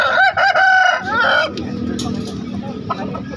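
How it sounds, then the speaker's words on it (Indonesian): Bangkok fighting roosters crow loudly and close by, one long crow then another, followed by clucking and general market bustle at a chicken market in Makassar. "beberapa jenis ayam bangkok mewah yang terdapat di Pasar Daya."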